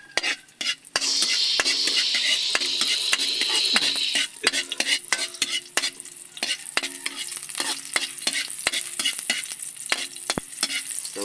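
Onions sauté in a hot pan, a steady sizzle broken by repeated scrapes and clinks of a utensil stirring against the metal, close and fairly loud, with no talking.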